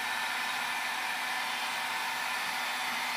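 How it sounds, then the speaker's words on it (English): A hair dryer blows steadily close by while heating vinyl tape stripes on car paint, a continuous airy whoosh with no breaks and no talking. "You don't want to hold this hair dryer or the heat gun too close to the vinyl or the paint."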